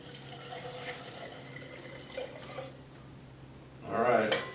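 Wine splashes into a tasting glass for a brief pour near the end, a short liquid burst following quieter room sound and background chatter.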